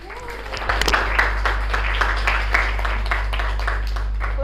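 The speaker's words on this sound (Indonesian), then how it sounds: "Tepuk tangan dulu." Students in a classroom lesson break into applause, a dense run of clapping that rises quickly and holds steady over a low constant hum.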